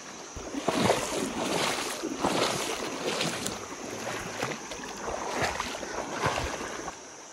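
People wade through a shallow forest stream in the deep jungle wearing plastic sandals, with steady splashing and sloshing of water around their feet under wind noise, with no talking.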